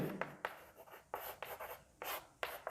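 Chalk or marker writing on a classroom board during a chemistry lesson, a series of scratchy strokes in uneven bursts with short pauses between, close and clear with no speech.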